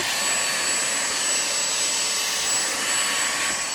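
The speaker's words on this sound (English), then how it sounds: "You're gonna hear a vacuum." A household vacuum cleaner runs nearby with a steady loud whooshing roar and a thin high whine, unchanging throughout and heard without talk.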